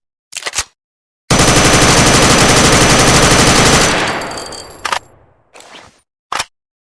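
AK-12 assault rifle firing in an animated weapon showcase: a short single report, then a loud rapid automatic burst lasting under three seconds with a ringing mechanical tail, followed by a few separate clicks and shots.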